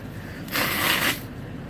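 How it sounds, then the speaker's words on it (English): A person blowing their nose, a single short hissing burst of air lasting about half a second, close to the microphone over a low background hum. "I'm gonna blow my nose and be gross."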